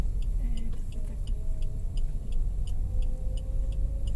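A car engine runs in first gear during a driving lesson, a steady low hum close by inside the cabin, with a faint regular ticking over it.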